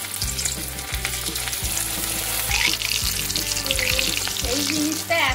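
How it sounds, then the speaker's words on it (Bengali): Battered fish pieces sizzle and crackle loudly in hot oil in a wok, a dense continuous hiss broken by a few metallic taps and stirring knocks. "সেইটা এবার এরকম ভাবে ডুবিয়ে একটা একটা করে আমি কড়াই ছেড়ে দেবো"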